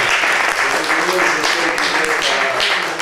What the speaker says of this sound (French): je voudrais que vous applaudissez M. Jean-Pierre Guénaud